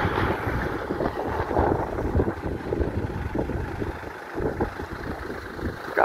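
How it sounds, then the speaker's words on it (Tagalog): Strong wind buffets outdoors near Mt. Mayon during a pigeon release, a steady low roar with gusty swells pressing on the microphone throughout, no speech. "Mahangin kasi."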